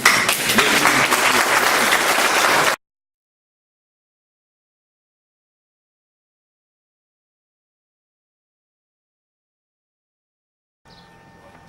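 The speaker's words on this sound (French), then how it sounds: "on applaudit bien fort l'équipe qui nous a reçus" A crowd claps loudly and steadily for a few seconds, then it cuts to near silence, with a faint bit of sound returning at the very end.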